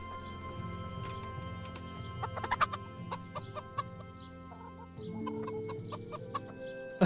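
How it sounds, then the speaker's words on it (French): Chickens in the video game Kingdom Come: Deliverance cluck and squawk in short, scattered calls over a steady humming background, with occasional sharper clucks standing out. "beaucoup de bruit ces poules là."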